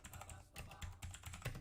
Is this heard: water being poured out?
no